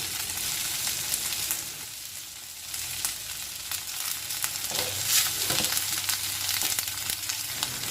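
Garlic, ginger, green chili and curry leaves fry in hot oil for a mango pickle, producing a steady close sizzle with a brief surge as leaves drop in, and no voices.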